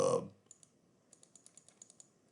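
Computer mouse buttons clicking at a desk while a curve is edited in CorelDraw: about a dozen crisp, light clicks in an uneven rhythm, close and fairly quiet, following a brief louder burst at the start.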